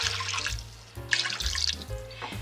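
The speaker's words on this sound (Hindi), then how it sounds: "अब इसके अंदर मैं ऐड करूँगी पानी" Water poured into a cooking pot of beef for karahi, a close, continuous splashing stream with brief pauses between pours, with no talking.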